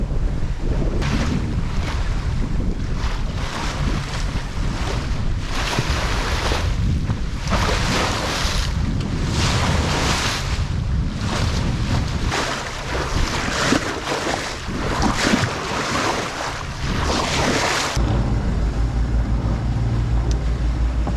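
A sailboat with all three sails up moves at 5.5 to 6 knots out of La Paz, Mexico, pounding into waves. Loud, constant wind buffets the microphone over rushing and splashing water, with surges as the hull slams through the swell.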